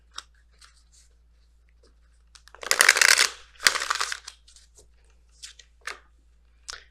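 Messenger Oracle tarot cards are shuffled in two dense bursts of crisp riffling, close and moderately loud, framed by light taps and handling noises in an otherwise quiet room.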